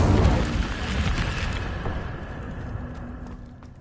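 Incendio fire spell cast in Hogwarts Legacy: a loud, broad roaring whoosh of flame that bursts at the start and slowly fades over a few seconds, with no talking.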